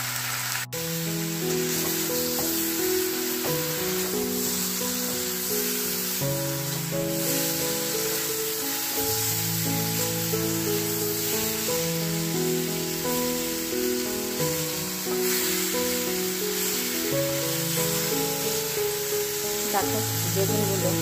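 Eggplant, potato and bean curry with bori fries in a pan, giving a steady, dense sizzle throughout, heard alongside continuous background music.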